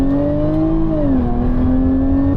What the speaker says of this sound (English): Fantastic sounding car.